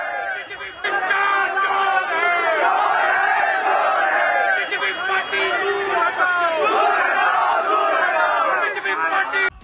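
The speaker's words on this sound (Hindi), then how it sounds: "आप सुनिए कैसे गृह मंत्री अमित शाह के खिलाफ मुसलमानों की भीड़ ने नारेबाजी की है" Crowd of Muslim protesters shouting slogans against Home Minister Amit Shah, a loud, dense mass of voices yelling in rhythmic bursts throughout, close and continuous.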